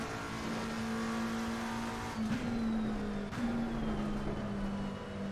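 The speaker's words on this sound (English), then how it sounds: "We don't want to bin it on this last lap, David." A race car engine in Assetto Corsa Competizione drones steadily at high revs through laps, with brief pitch dips at shifts or corners, loud and close.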